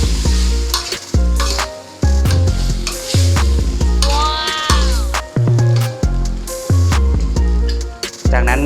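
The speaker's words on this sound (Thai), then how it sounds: "จากนั้นเรามาคนนะครับเพื่อปลามันเข้ากับพริกแกงนะฮะ" Eel with curry paste sizzles loudly in a frying pan while it is stirred, with frequent metallic scrapes and knocks in a quick irregular rhythm over steady frying, close up.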